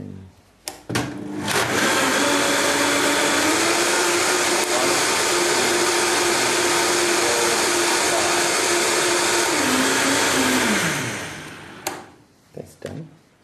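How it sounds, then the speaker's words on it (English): A high-speed blender whirs steadily for about ten seconds, blending tomato and carrot soup made with water, its loud motor starting abruptly, holding an even roar, then winding down, with brief clatter of handling before and after. "Beauty of a high-speed blender."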